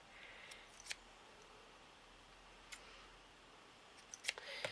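Scissors snip paper while cutting out the centre of a miniature hat, giving a few faint, sparse clicks and snips spread apart over a quiet background, with a small cluster of cuts near the end.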